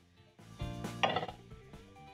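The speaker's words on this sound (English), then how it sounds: "Once my pan is hot, I'm going to add in my spinach into my pan." Fresh spinach goes into a hot pan for creamed spinach, marked by a few close metallic clinks and clatters of pan and utensil with a soft rustle, moderately quiet, no talking.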